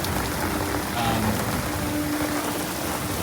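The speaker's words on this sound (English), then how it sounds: "right when I came out, it started pouring" Heavy rain pours down outdoors at Universal Orlando, a loud, steady hiss of water falling on the ground and an umbrella, continuous and close.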